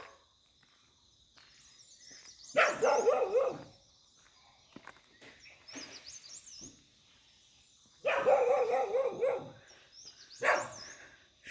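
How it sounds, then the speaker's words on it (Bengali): A dog on a hillside near a small mountain village barks in short bursts, twice in clusters some seconds apart, over a constant background of high insect chirring. "কুকুর।"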